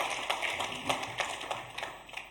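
A church congregation at a Sunday worship service claps their hands, producing faint, fairly steady rhythmic claps at a distance in a reverberant hall.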